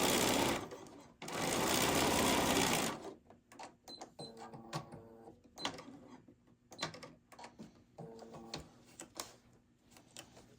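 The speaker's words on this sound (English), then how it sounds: "I'm going to take this over to the sewing machine and I'm just going to quickly sew this line." A sewing machine sews a straight seam line in quick mechanical bursts, rapid clattering stitches starting and stopping, close by, after a brief rush of noise at the start.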